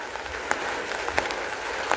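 Steady rain falls during a storm, a broad, even hiss of drops with a few sharper spatters and taps close by, continuous across the short span with no voices.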